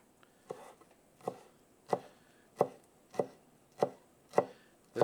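Knife chopping fresh parsley on a cutting board, seven or so distinct, evenly spaced chops with a soft thud and short ring, close and fairly quiet with no talking.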